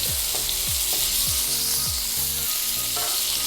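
Steak frying in a hot pan with rosemary and garlic added, giving a steady close sizzle throughout with light stirring and scraping touches over it.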